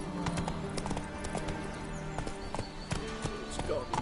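Roach, a horse in the video game The Witcher 3, galloping with rapid rhythmic clip-clop hoofbeats that stay loud and steady throughout, over a dense in-game background.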